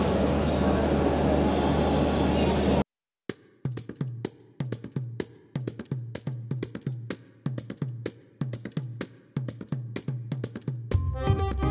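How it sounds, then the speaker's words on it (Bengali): A Bangladeshi local passenger train pulling out of Ishwardi Junction: a steady rumble, then a sharp break and a long run of loud, evenly spaced wheel clacks over rail joints, close by and without voices. "এই হচ্ছে বাংলাদেশের লোকাল ট্রেন"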